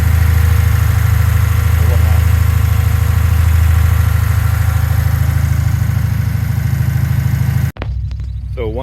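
A Lexus IS F engine idles with a steady low rumble during CRC intake valve and top-end cleaning, loud and close, then cuts off near the end, leaving a quieter tail.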